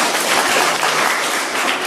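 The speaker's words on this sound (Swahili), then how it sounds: "tuwapigie makofi" A church congregation applauds during a Kenyan Catholic Ascension Day sermon, a dense, even wash of clapping held at a constant level for the whole moment.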